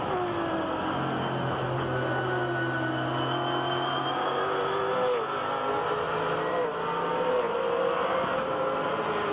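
A race car engine at Bathurst during a Fujitsu Series race, revving hard and climbing through gears with brief shift-cut dips in pitch, loud and steady throughout while someone speaks faintly over it.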